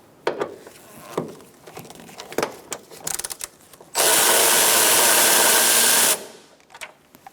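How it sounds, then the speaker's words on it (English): A power tool with a 12mm socket spins a bolt out of a 2014-2019 Kia Soul 1.6L during radiator replacement, a loud, steady whir of about two seconds after scattered clanks and handling clicks. "Now we're going to take out this bolt using a 12mm socket."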